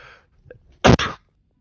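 A single sharp sneeze, close and loud, preceded by a brief quiet intake of breath.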